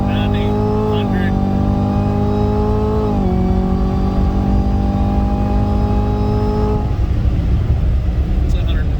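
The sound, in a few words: 2018 Chevrolet Camaro ZL1 accelerating at full throttle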